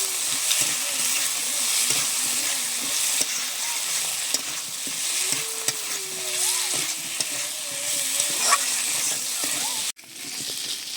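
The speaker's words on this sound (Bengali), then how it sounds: "এবারে বেশ সুন্দর করে কষে নেব।" Fish and lentil-dumpling curry with potatoes is stirred and fried in a pan, giving a steady, close sizzle with scraping strokes and a few clinks, while a voice talks over it for much of the time.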